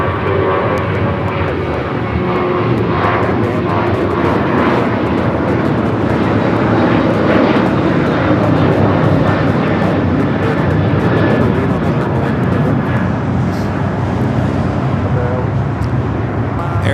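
An Air Tahiti Nui Boeing Dreamliner bound for Paris takes off from runway 24 left at LAX, its jet engines roaring loudly and steadily with a broad rumble throughout, traffic noise mixed in beneath.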